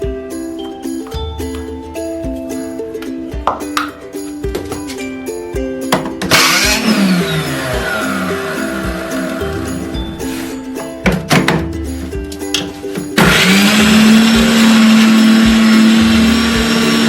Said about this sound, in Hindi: अब हम सबसे पहले मूली को हम ग्राइंड कर लेंगे। थोड़ा सा इसका पेस्ट बना लेंगे।